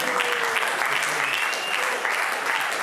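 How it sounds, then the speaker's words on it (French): Sustained audience applause at a live comedy stage show, a dense steady wash of many hands clapping with no pauses, fairly loud and close. "S'il vous plaît, applaudissez ma maladresse."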